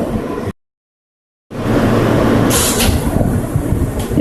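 MTA R160 Q subway train rolling on the Brighton Line, a loud steady rumble of wheels and car noise that cuts out for a second, then returns with some hiss and screech.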